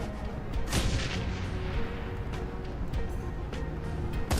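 Grenade explosions and gunfire in the Shadowrun Hong Kong video game form a dense, continuous barrage of booms and blasts with sharper bangs standing out, loud throughout.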